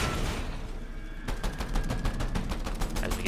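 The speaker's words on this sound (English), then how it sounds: "we're going to want to burn down the cube spawner with our pistol" Rapid pistol gunfire in a video game as a player shoots down a cube spawner, a quiet stretch followed by a dense, steady run of sharp shots from about a second in, loud and close with no talk.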